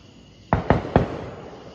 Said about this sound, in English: there are a lot of people that get upset about these fireworks